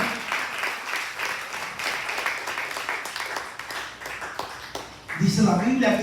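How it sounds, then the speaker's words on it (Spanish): A church congregation breaks into sustained applause that runs loud and dense for about five seconds before a voice cuts in at the end. "Denle un aplauso al Rey de la Gloria"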